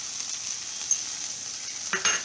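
Cumin powder sizzles with okra in a hot pan, a steady close frying hiss with a brief louder stir or clatter near the end, no talking.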